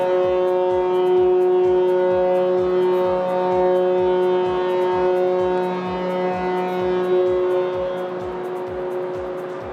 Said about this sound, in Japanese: 汽笛一発